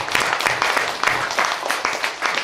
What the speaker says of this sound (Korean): 이때 우리 장로님처럼 박수 한번 칩시다